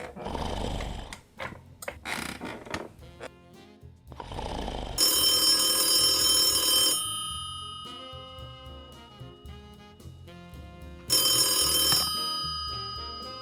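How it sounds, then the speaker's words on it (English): A telephone rings in a workshop, a bright electronic ring in two long bursts separated by a pause, following some louder mixed noises at the start. "Phone."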